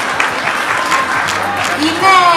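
An audience at a Make a Wish event applauds in a dense, steady wash of clapping, while a voice speaks over it and rises at the end.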